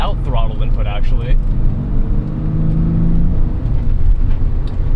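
A Porsche 911 993 Carrera S with its air-cooled engine drones steadily while driving, a constant low mechanical hum under someone talking.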